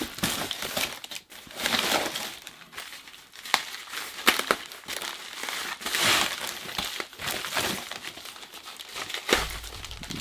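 Double-boxed cardboard packaging holding comic books is pulled open, giving continuous close crinkling, rustling and crunching with sharp tearing and flap noises scattered throughout.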